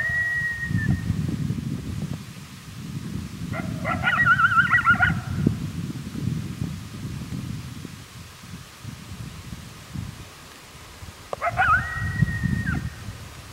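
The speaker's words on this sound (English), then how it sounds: "we still have not spotted these coyotes. They're still down in the timber" Coyotes down in the timber howl and yip in a few drawn-out, wavering bursts, distant but clear, with rustling and low outdoor noise between the calls.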